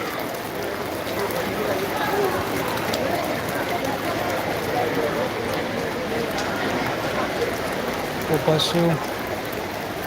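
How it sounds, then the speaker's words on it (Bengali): Heavy rain pours steadily at Belur Math during Durga Puja, a dense continuous hiss across the whole stretch, with devotees sheltering nearby and faint voices and brief knocks showing through near the end. "বৃষ্টিটা ভালোই এসছে জোর"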